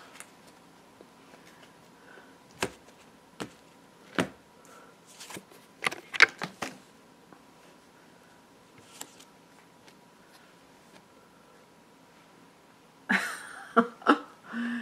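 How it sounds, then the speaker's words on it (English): Soft riffling and tapping of playing cards being shuffled, in short scattered bursts with quiet gaps, ending in a quicker flurry. "shuffling the cards"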